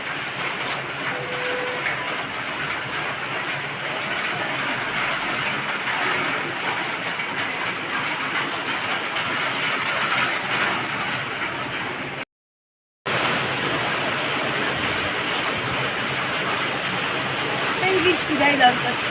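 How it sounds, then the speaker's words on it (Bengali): Heavy rain pouring down in a steady, dense hiss, continuous and fairly loud, broken by one brief total dropout midway before resuming at the same strength. "শুরু হয়ে গেছে বৃষ্টি"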